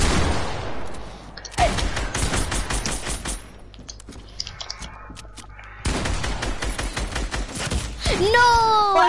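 Video game gunfire crackles in rapid automatic bursts and fusillades, loud and close, broken by short pauses and occasional booms, with players talking intermittently.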